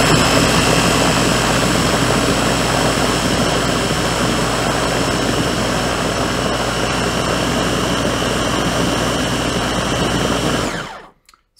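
A Ninja blender spins chickpeas into hummus, a loud, steady motor whine with a dense, even roar holding for about ten seconds before cutting off abruptly near the end.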